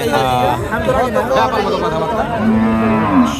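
A cow lets out a long, loud moo over a busy crowd of chattering voices at the Sonaichandi livestock market in Chapainawabganj.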